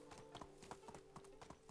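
Horse hooves clip-clopping in the video game Medieval Dynasty, a quiet, quick, regular patter of hoofbeats over a low steady hum.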